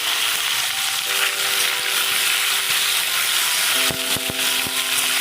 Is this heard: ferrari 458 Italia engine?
no